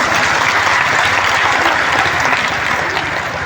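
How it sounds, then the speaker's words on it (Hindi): Loud, sustained applause from a large crowd at a religious gathering at Bageshwar Dham, dense clapping that continues steadily throughout. "जोरदार तालियां बजाकर"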